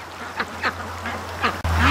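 Farm ducks by their pen give a handful of spaced quacks, moderately close, over a steady low background hum that shifts near the end.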